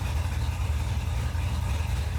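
A V8 from an LS swap in a Chevrolet S10 pickup idles high and steady, a close, continuous low rumble with a faint exhaust burble and no talk over it.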